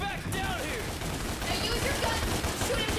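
Enemy gunfire in Devil May Cry, rapid bursts of shots forming a dense, continuous fusillade under game effects, with someone talking over it.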